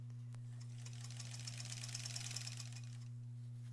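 A quilting machine stitching through a bulky granny squares quilt, a steady low motor hum with a rapid mechanical stitching chatter that swells in the middle and then eases off, close and moderately quiet.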